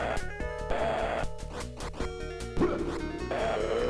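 Enemy dogs in the video game Splatterhouse 3 bark repeatedly in loud, rhythmic bursts, mixed with crunchy hit sounds over a droning synthesized game soundtrack.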